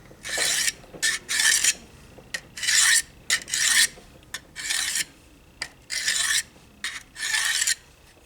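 A knife blade drawn in repeated strokes across a four-sided Harbor Freight diamond hone block, each stroke a bright, gritty rasp, about a dozen in an uneven rhythm with short gaps, close and alone.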